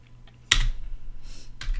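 A firewall command being typed on a computer keyboard while server files are moved to Linux: a few soft taps, then sharp bursts of clacking keys, close and clear, with no voices.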